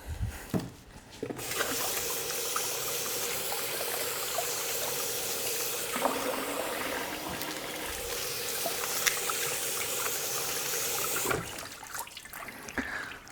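Steady running tap water splashing over a tomato and a red onion being washed in a kitchen, continuous for about ten seconds before cutting off.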